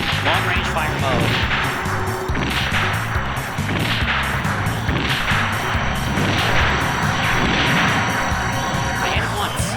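Rapid weapon fire in long-range mode from the Gundam video game Federation vs Zeon DX, a steady barrage of repeated booming shots and crashes that runs through the whole stretch, with speech mixed in.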